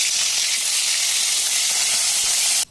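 Hilsa fish heads frying in hot oil give a steady, loud, close hiss and sizzle that runs without a break until it stops suddenly at the end.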